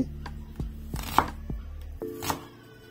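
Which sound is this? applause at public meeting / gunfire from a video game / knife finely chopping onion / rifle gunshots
knife finely chopping onion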